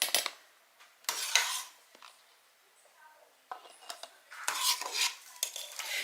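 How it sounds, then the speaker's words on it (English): Slotted spoon scraping and clinking against a pot and glass canning jars while scooping mandarin oranges, a series of scattered, close metallic clatters with quiet gaps between them. "Now we're just using a slotted spoon, scooping out our oranges and canning them up."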